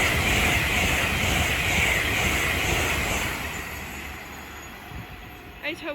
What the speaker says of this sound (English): The next train to pass by is going to be LNER Zoomer from London King's Cross to Stirling